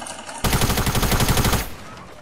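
Rapid burst of gunfire from sniping in Fortnite 50vs50, a loud dense volley of shots lasting over a second before cutting off to a quieter tail.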